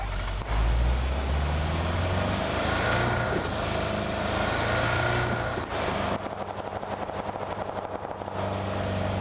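A car engine drives steadily in the video game PUBG, a continuous loud drone with shifting pitch and rougher revving toward the end, with no talk over it.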